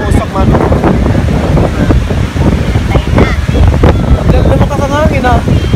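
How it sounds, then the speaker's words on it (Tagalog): Strong wind gusts batter the microphone outdoors in British Columbia, a loud, constant rumbling roar with uneven bursts throughout, and voices come through faintly underneath. "Lumakas ang hangin ah."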